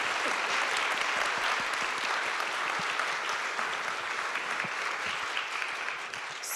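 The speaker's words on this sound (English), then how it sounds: "give them a wonderful round of applause" A room of attendees at a philanthropy fireside chat gives the speakers a long round of applause, dense and continuous, thinning slightly toward the end.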